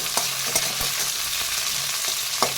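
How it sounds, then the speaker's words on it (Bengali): Chopped capsicum is stir-fried in a hot pan, with a constant loud sizzle broken by repeated scraping stirs of the spatula, heard up close and with no talking. "এবার আমি কেটে রাখা ক্যাপসিকামগুলো দিয়ে দিচ্ছি ক্যাপসিকামগুলো একটু নাড়াচাড়া করে নিচ্ছি"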